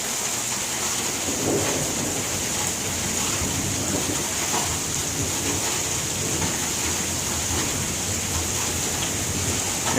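Steady, heavy rain pours down throughout a thunderstorm at a park, with low rolling thunder rumbling beneath the constant hiss of falling water.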